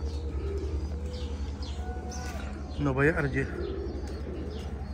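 Pigeons cooing inside a pigeon tower, soft repeated coos layered under a steady low rumble, with someone talking briefly near the middle.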